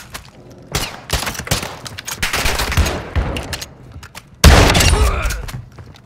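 Rapid gunfire in a video game, bursts of sharp shots and automatic fire in irregular clusters with a loud, heavy volley near the end.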